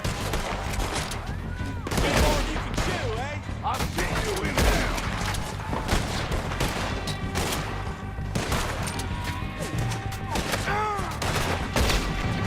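Gunfire in the Western video game Red Dead Redemption 2, a dense, continuous barrage of shots and booms running throughout at a steady loud level, with speech mixed in.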